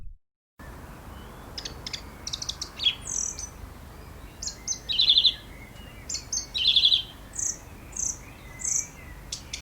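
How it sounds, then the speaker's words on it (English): Birds chirp in short, bright repeated calls and trills over a dense, steady bed of cricket-like insect buzz, raw and unprocessed, moderately distant and fairly quiet, with no talk. "just to kind of give you an example of what the birds sound like without any type of processing"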